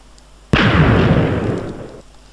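A TNT cannon fires in the Minecraft video game: one sudden loud explosive boom that rumbles on and slowly fades for about a second and a half before cutting off.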